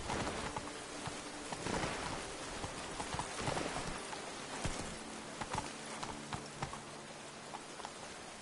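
Hoofbeats of Roach, the horse in The Witcher 3, a steady clip-clop at a walking or trotting pace over a continuous rushing ambience, fairly quiet and even throughout.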